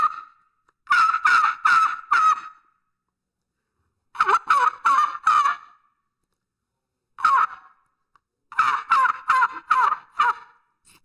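Jake turkey cackling imitated on a tube call, delivered as four bursts of quick, raspy clucks separated by silent pauses, loud and close.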